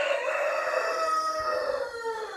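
Rooster crowing among chickens in a backyard coop, one clear drawn-out crow close by, loud and alone.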